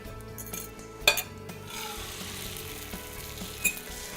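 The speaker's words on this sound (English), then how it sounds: "now, we're gonna add our egg and cheese mixture to our pan." An egg and cheese mixture sizzles and fries in a hot pan as breakfast cooks, a steady close crackle with a sharp clink of utensil on the pan near the start and another later.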